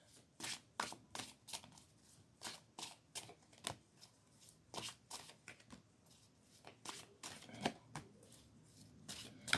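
Tarot cards shuffled by hand, a quiet rapid run of soft riffling slaps and flicks in an irregular rhythm, close up with no talk.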